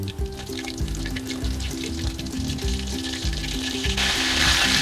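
Prawns fry in hot oil, a loud, continuous sizzle with bubbling crackle that grows brighter and more intense toward the end.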